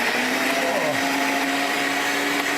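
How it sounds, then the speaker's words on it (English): A loud kitchen blender runs steadily with a constant high whirring motor drone, close and alone, a brief pitch dip as the blades bite into celery root. "This is a loud blender."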